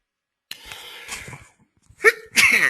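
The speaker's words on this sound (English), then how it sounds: "excuse me, sneeze on the truth." A single sharp sneeze from a lecturer, preceded by a breathy intake, then a second abrupt burst of breath and voice, close and loud in an otherwise quiet room.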